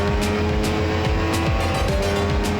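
Race car driven hard on a circuit, its engine loud and close and revving up in repeated climbing sweeps between quick gear shifts, with a rhythmic mechanical rumble underneath and no talk.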